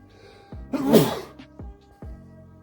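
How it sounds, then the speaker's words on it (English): A single sharp human sneeze bursts out, close and loud, with a brief wind-up breath before it and faint background hum around it. "Excuse me, I had to sneeze."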